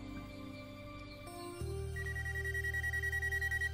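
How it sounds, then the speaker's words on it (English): A steady electronic beeping tone repeats in a quick regular pattern, fairly loud over a low mechanical hum and background music-like tones. "It's beeping and nobody realized it."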